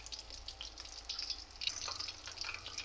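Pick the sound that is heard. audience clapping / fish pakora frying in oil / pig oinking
fish pakora frying in oil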